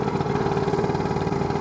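Lambretta scooter engine fitted with a BGM PRO MZ30 exhaust, running steadily with a continuous buzzing two-stroke drone and a rapid pulsing rhythm, close and loud throughout with no talk.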